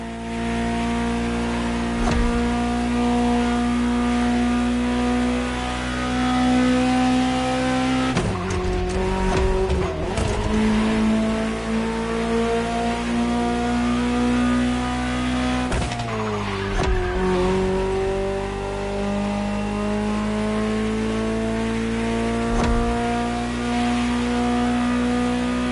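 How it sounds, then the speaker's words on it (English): A Ferrari engine in a PS4 racing game drones steadily, rising and falling in pitch with sharp gear-change revs and brief tire squeals, loud and continuous with no talking. "Just listen to the car you're driving."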